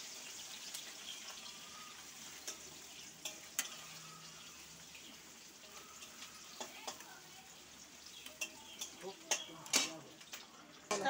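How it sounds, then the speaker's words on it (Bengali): Onion frying in oil in a pan crackles with a soft, steady sizzle, broken by occasional sharp clicks and taps of stirring. "আমি এখন পেঁয়াজটা তেলে দিচ্ছি। পেঁয়াজটা আমি একটু ভাজি।"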